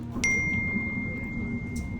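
A phone notification ding sounds once, sharp and bright, its tone ringing on over a low indoor hum, with a faint second chime near the end.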